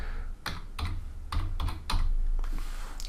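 Someone types on a computer keyboard in a close, irregular run of sharp key clicks and taps, about half a dozen distinct strikes, over a low steady background hum with no talk.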